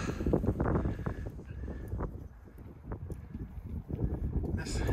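Steady wind buffets the microphone with low rumbling gusts, loud and close throughout.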